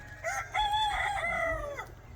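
A rooster crows once in a long, drawn-out call, close and clear, with faint clucking and farmyard noise around it on a free-range village poultry farm.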